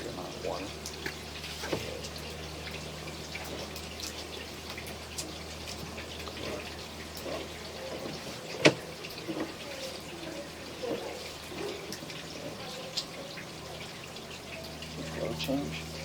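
Water rushes steadily through a sewer pipe, a constant low wash with occasional drips and small splashes.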